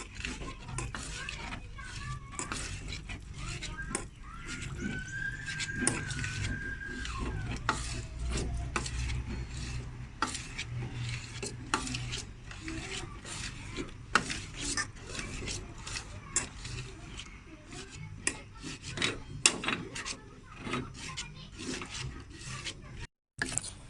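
Continuous scraping and stirring of thick, sticky sago starch dough in a pot, steady and close, with faint sizzling underneath for a long stretch.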